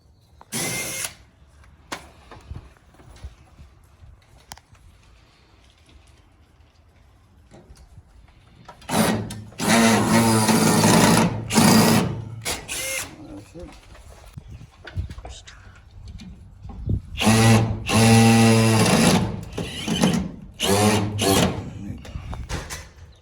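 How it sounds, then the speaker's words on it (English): Power drill driving screws into a steel frame on a screen porch, several bursts of whirring motor that ramps up and stops, loud and close, with quiet gaps and brief clicks between runs. "screw directly to this steel frame behind"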